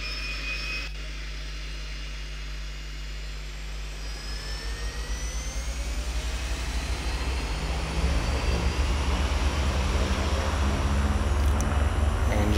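A Beech Duke BE60 engine spins up in FSX, a whining start that builds into a steady, rising roar with layered turbine-like tones, loud and continuous without talk.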